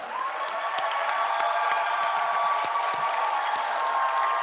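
An audience at an induction ceremony for newly qualified medical and dental practitioners claps and cheers for parents, a dense sustained applause filling the hall with scattered shouts throughout.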